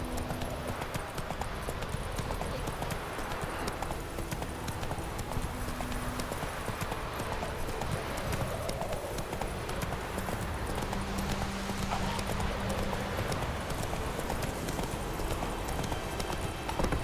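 Roach, a horse in The Witcher 3: Wild Hunt, gallops with steady, rhythmic hoofbeats for the whole stretch over a soft game backdrop with low sustained tones.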